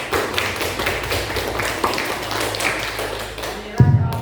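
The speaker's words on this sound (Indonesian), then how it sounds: "Ya, beri tepuk tangan." High school students in an Indonesian economics classroom clap their hands, a loose scatter of claps under some background voices, ending with a louder thump near the end.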